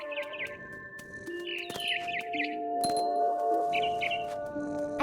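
A mama bird in the video game What Remains of Edith Finch gives repeated short chirps and trills in clusters over soft ambient game tones and a low background hum, with no speech.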